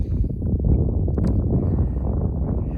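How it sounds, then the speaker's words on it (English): Wind buffeting a microphone beside the brimming Frank Kern Canal in the San Joaquin Valley, a loud low rumbling roar with gusty swells throughout, no voices. "you can hear the wind blowing just a little too hard for the audio"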